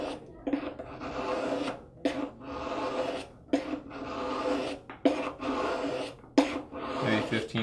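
Knife being sharpened on a stone to set a bevel, a series of about ten rhythmic rasping strokes, close and even, each separated by a short pause.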